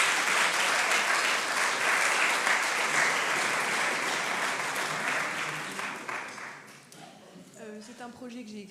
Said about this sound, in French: on va vous applaudir bien fort